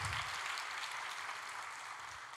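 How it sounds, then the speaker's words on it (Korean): Church worship service audience applauding a sand artist, a soft, distant, even patter of clapping that continues throughout and tapers a little at the end. "감사의 박수 해주시면"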